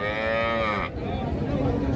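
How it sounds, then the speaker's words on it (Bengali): A single loud cow moo rings out, close by, followed by the murmur and clatter of a busy Raniganj cattle market crowd where milk cows and calves are traded. "আর আমরা এখানে একটা গাবি দেখতেছি"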